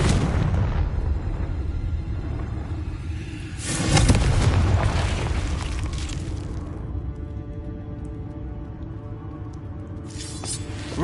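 Confringo blasting spell explosions in the Hogwarts Legacy video game: a loud, sustained booming blast rumbles under game noise, with a second sharp burst near the middle and a fresh blast starting at the end.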